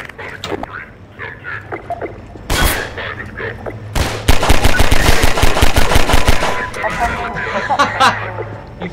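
Gunfire in the video game Half-Life 2: single shots ring out first, then a long rapid automatic burst of evenly spaced cracks. The shots are loud and close over faint game ambience.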